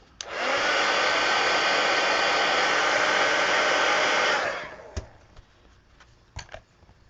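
A handheld dryer roars loudly and steadily for about four seconds while drying a mixed media planner insert, then winds down, followed by a few light taps and handling knocks.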